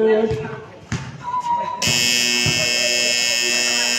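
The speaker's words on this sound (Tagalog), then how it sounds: "and that's the final buzzer." A loud, sustained electronic final buzzer sounds abruptly at an under-16 basketball game after crowd noise and a few bouncing ball thumps, holding steady to the end.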